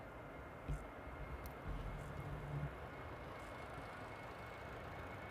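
An airliner landing on runway 06 at Amsterdam Airport gives a distant, low engine rumble across outdoor background noise, with a couple of brief, slightly louder swells and no speech.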